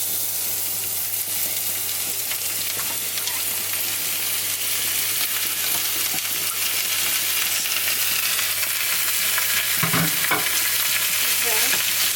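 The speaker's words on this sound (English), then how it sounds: "Now I'm gonna add the pepper." Pepper hitting a hot pan while stir-frying for broccoli and chicken spaghetti, a dense continuous hiss of frying with faint utensil clicks near the end and no voices.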